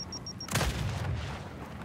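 A frag grenade explodes in Gears 5, a sudden loud boom that breaks off a short beeping tone and then fades into a rumbling tail inside the game's combat soundscape.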